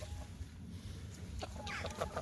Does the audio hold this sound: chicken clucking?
yes